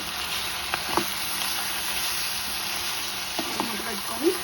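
Pepper chicken frying in a pan while being mixed with spoonfuls of pepper masala, a steady broadband sizzle with a few soft scraping stirs near the end, close and moderately loud, no talking.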